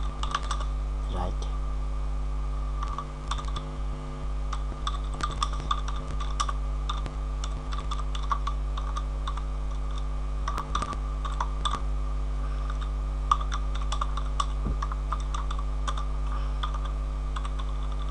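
Steady clicking of a computer keyboard while an SQL delete query is typed, irregular bursts of keystrokes over a constant electrical hum, close and fairly soft, with someone speaking at times.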